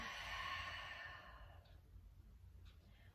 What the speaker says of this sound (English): Let me hear a nice good exhale.